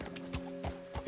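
A horse in Red Dead Redemption 2 clops along with quick, evenly spaced hoof strikes over a steady droning game backdrop. A brief whinny-like sound follows near the end.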